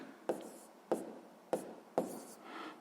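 A pen writes a math solution by hand in four short, distinct strokes at a steady pace, close and quiet.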